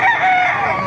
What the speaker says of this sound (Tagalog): Dahil manok oh.